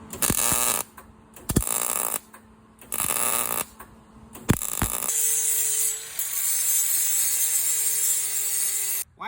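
Welded jewelry casting flasks are ground smooth. A harsh, loud grinding rasp comes in several short bursts with quiet gaps between them, then settles into one long continuous grind.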